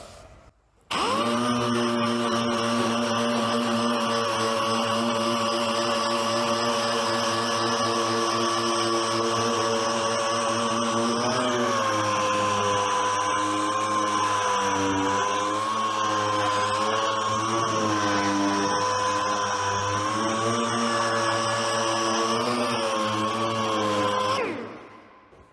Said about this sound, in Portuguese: Agora eu vou colocar uma lixa 120, mas para dar um acabamento mesmo,